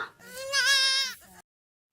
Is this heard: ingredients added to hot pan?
no